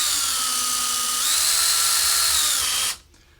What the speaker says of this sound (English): now we've drilled halfway through